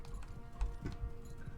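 Horse hooves pound in a quick, uneven clip-clop rhythm during a run in the video game Mount and Blade: Bannerlord, fairly faint, with soft background game noise and no voices.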